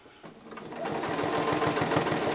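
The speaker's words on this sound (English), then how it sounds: "I'm just going around the outside edge, doing my stitch in the ditch all the way around the outside of these petals" A sewing machine stitches in the ditch around the flower petals of a quilt, starting after a brief quiet moment and then running in a steady, fast, close mechanical rhythm.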